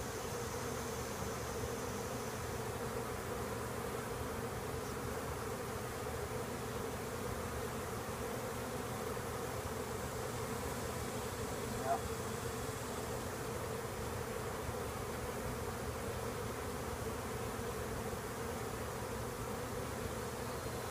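Honey bees humming steadily in an open 5-to-10-frame hive, a soft continuous drone close by, with no speech.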